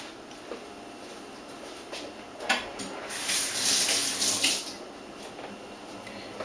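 Water from a kitchen tap runs to wet a serrated bread knife, a soft steady splash that swells for a couple of seconds and then fades back to a quiet trickle.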